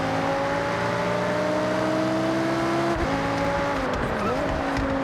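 An Audi R8 V10 supercar in Forza Horizon drones steadily at high revs, its engine tone dipping and climbing through gear changes and a brief lift, loud and continuous with a narrating voice faintly underneath.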